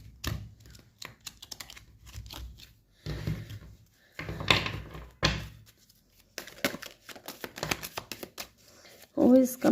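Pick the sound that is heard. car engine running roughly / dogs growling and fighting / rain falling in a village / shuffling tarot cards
shuffling tarot cards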